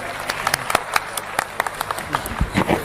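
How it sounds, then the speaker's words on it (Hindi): A seated gathering welcomes a speaker with applause, individual claps standing out in an uneven patter that builds slightly toward the end, with some voices underneath. "एक बार जोरदार तालियों से स्वागत करें।"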